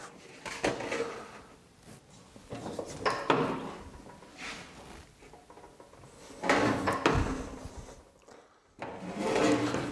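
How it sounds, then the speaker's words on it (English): Sheet metal is cross broken on a Tin Knocker 4-foot box and pan brake for a rectangular duct, heard as several loud metallic clanks and bumps spaced across the clip, with rustling handling in between. "So we're going to do this on our Tin Knocker 4 foot box and pan brake."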